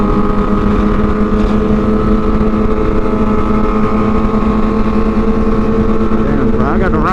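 A Yamaha FZ07 motorcycle doing wheelies roars loud and close, a sustained, slightly wavering engine drone with wind buffeting the microphone throughout.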